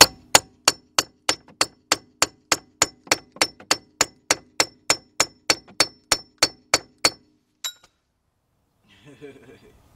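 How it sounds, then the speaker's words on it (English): A chisel hammered against the front right wheel bearing hub of a 2008 Audi A6 Quattro 3.2 rings out in about twenty loud, close, evenly paced metallic clangs over seven seconds, then one faint clink before quiet. "Now I'm trying my little chisel here, big chisel here."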